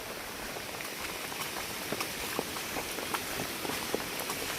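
Steady rain patters on a surface, with scattered heavier drops tapping through the constant wash; fairly soft and no voices.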